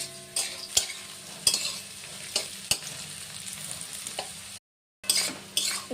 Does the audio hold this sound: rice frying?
yes